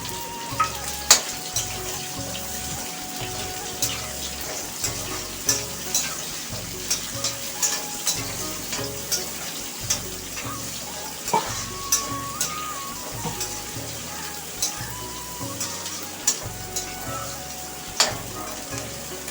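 Onions sauté in a pan with a continuous crackling sizzle and regular sharp clicks of a spoon stirring, close and fairly loud, with no talking.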